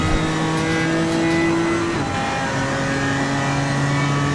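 A Porsche race car accelerating down a long straight at Paul Ricard, a loud sustained engine drone rising through the gears, with one brief pitch break midway, heard from inside the car.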